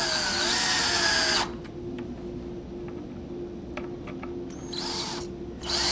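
A power drill drives screws into a box-out header for a bypass door track, with a loud whining burst at the start, quiet clicks and handling noise in between, then another short whir near the end.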